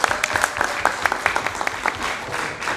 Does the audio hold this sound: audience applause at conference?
yes